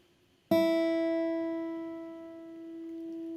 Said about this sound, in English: the highest string, which is the first string, is an E